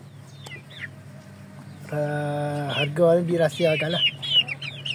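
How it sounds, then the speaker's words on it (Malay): India Gigante chickens cluck in short, close bursts, with someone speaking over the later part of the birds' calls. "Ayam IG India Gigante yang aku beli ni."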